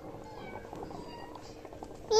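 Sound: cat meowing

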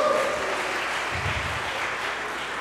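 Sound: congregation applauding in church worship service

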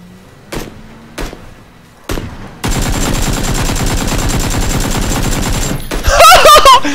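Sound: gunfire in the video game PUBG

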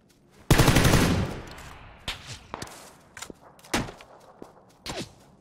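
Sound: gunfire in a shooting video game

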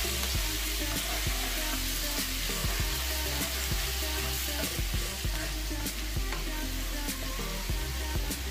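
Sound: stirring garlic paste into sizzling pan

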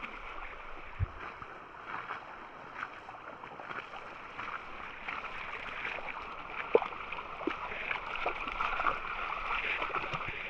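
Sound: ice-cold stream flowing

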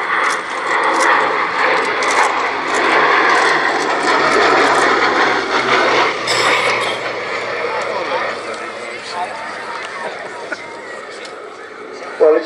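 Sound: Westland Lysander aircraft flying by

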